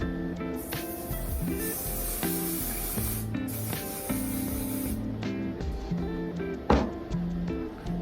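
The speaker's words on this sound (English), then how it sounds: "This is the holding spray I use." Holding spray misted onto hair in two long hissing bursts, close and fairly loud, over steady background music.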